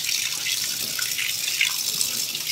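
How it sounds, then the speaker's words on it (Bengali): Tap water running over fish pieces being washed in a kitchen sink, a steady hissing splash with small irregular spatters, fairly quiet and continuous. "তো প্রথমে মাছের টুকরোগুলো এবার ধুয়ে নিচ্ছি পরিষ্কার করে।"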